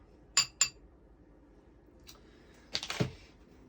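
A metal spoon clinks a few times against a glass jar of thick Manuka honey, two sharp taps early and a short cluster later, close and fairly quiet with no talk.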